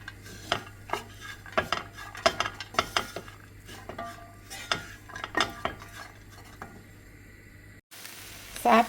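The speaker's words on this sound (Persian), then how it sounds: "تفت میدیم کمی." Ground meat and raisins frying in a pan for Persian dolmeh, with a soft sizzle under repeated scraping and clinking of a utensil stirring against the pan.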